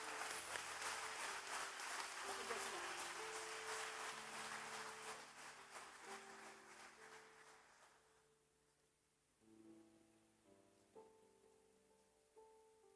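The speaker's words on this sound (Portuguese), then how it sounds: "Vamos aplaudir Jesus por essas pessoas?" A church congregation applauds, the clapping dense and loud at first, then thinning out and fading as tuneful keyboard notes carry on beneath it.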